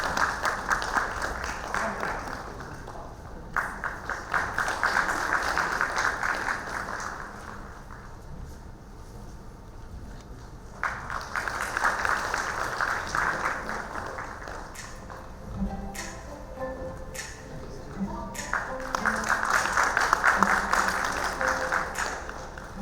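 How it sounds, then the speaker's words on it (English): Audience applause at the Karnataka Educators' Summit and Dynamic School Awards 2025 in Mysuru comes in several sustained waves of clapping, with quieter gaps between them and a hint of voices. "let's have a huge round of applause once again for all the panelists"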